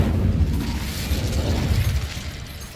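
Incendio fire spell cast in the Hogwarts Legacy video game, a continuous loud roaring, rumbling blast of flame that holds steady for a few seconds with no talk.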